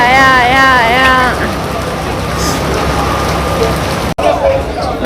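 Rain falls steadily on a crowded street on a Sunday, a dense, continuous hiss of drops on surfaces, with a person talking over it at the start.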